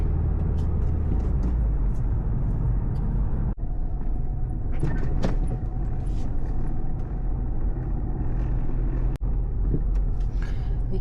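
Car driving on a road, a loud steady low rumble of engine and tyres with brief clunks and occasional passing noises throughout.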